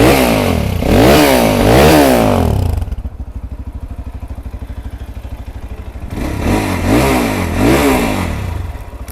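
A 2019 KTM RS3 250 motorcycle engine revs hard in two rising sweeps, drops to a lumpy idle, then revs up twice more, loud and close with no talk.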